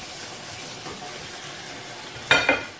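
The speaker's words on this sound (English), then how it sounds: "Listen to the sizzle. That sizzle is music to my ears." Bacon sizzling in a frying pan with a little oil during a fry-up, a steady close hiss throughout, with two sharper crackling bursts near the end.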